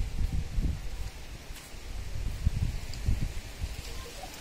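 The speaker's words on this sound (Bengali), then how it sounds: "এই যে হাওয়া শুনতে পাচ্ছ, বৃষ্টিও হচ্ছে টিপটিপ করে" Wind blowing around a palm tree on a rooftop during light drizzle after a storm, with low gusty rumbles and rustling buffeting close to the microphone.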